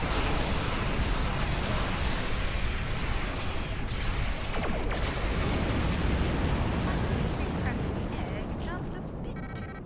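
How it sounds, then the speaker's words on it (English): Starship weapons in Star Trek Online firing on an asteroid, a continuous loud roar of blasts and rumbling impacts that runs throughout with no break and fades slightly at the end. "Tactical, target that asteroid and prepare to fire."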